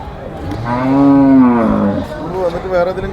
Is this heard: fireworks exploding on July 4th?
no